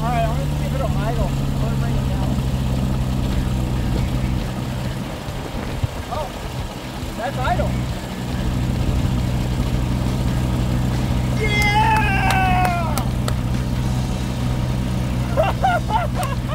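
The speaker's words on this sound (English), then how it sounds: "Alright, I'm going to give it a idle." An old WW1 airplane engine with battery electric start idles steadily at close range, a constant low drone running the whole time while voices talk over it.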